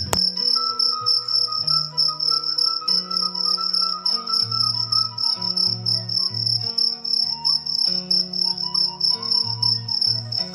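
Crickets chirp at night in a dense, loud, continuous pulsing trill, with soft melodic music running underneath.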